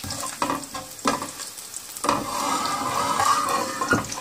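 Urad dal sautés in a hot pan for coriander chutney, giving a steady close sizzle and frying hiss, with a few scraping stirs and clinks at the start.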